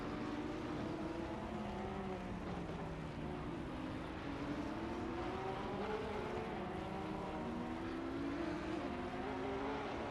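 Porsche race cars run at Paul Ricard in Assetto Corsa Competizione, with engine tones climbing and shifting through gears. The sound is a continuous, layered whine of several cars close together, quiet and steady throughout.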